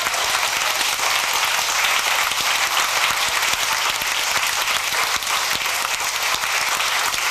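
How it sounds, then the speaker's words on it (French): A church congregation in Martinique applauds during a service, giving a full, even roar of clapping that continues without pause for several seconds. "Applaudissons le Seigneur."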